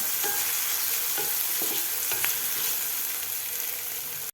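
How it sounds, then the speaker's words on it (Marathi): Onion already golden sautés with added tomato in a pan for a Maharashtrian wet pigeon-pea amti, giving an even, loud sizzle throughout with a few soft clicks of stirring. "टोमॅटोसुद्धा आपल्याला एक मिनिटभर परतून घ्यायचं आहे"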